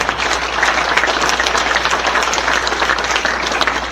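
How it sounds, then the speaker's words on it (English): A crowd applauds the parents at a baseball hall of fame induction ceremony, a steady, dense round of clapping that holds at an even level throughout with a low hum underneath. "I think they also deserve a round of applause and a pat on the back as well"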